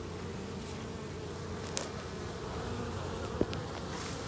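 Honeybees buzzing around the hive entrance during an October orientation flight, a steady close swarm drone with a couple of brief sharp clicks.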